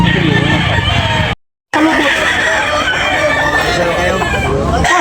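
White Kelso roosters crow loudly and repeatedly at a chicken market in Tabunok, Talisay, with clucking fowl around and a brief dropout partway through, close and dominant over faint background chatter.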